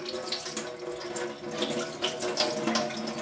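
Tap water runs steadily into a sink as soaked almonds are rinsed for homemade almond milk, a close, continuous splashing stream with no voices.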